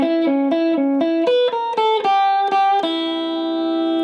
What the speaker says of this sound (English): So this turnaround lick is going to sound like this.